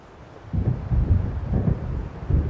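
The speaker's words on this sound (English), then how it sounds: "It seems there's a storm coming." An approaching storm's thunder in Alan Wake rolls in as a low, rumbling wash that swells and holds near and loud for a couple of seconds, with no talk.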